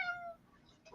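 A cat meows once close by, a short clear harmonic call in the opening half second, followed by faint higher chirping sounds in a quiet room.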